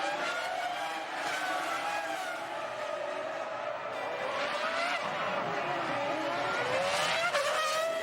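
Formula 1 cars racing as Montoya launches Trulli into the air, a continuous roar of high-revving engines with rising and falling pitch sweeps and a hint of tire squeal.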